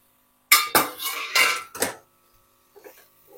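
A cooking pot lid lifted off a pan of simmering vegetables during suji paratha preparation gives a cluster of close metallic clanks and scrapes over about a second and a half, followed by a few faint soft knocks.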